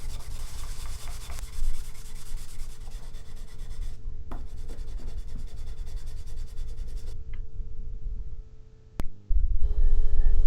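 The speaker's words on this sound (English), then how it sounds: "I also sand this piece to blend it in with the surrounding faces of the corbel." A wooden corbel piece for a pool table is hand-sanded with steady back-and-forth rubbing strokes, close and continuous, pausing briefly near the end before resuming.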